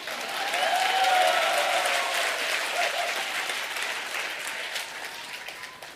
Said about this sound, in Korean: 박수 치려면 화끈하게 치십시오